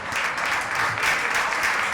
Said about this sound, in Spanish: un fortísimo aplauso para todos